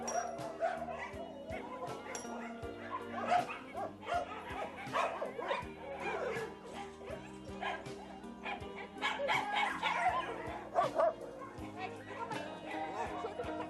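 Street dogs bark, yip and whimper in a busy outdoor setting in Bangalore, with overlapping calls at varied distances under steady ambient noise and talking voices.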